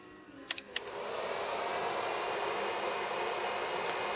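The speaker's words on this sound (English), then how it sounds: "The drive caddies themselves will be a little bit of noise now" A 2U X-Case RM 208 hotswap server fitted with eight 2TB hard drives in their caddies powers up with a couple of sharp clicks, then settles into a steady, loud broadband whir of drives and fans.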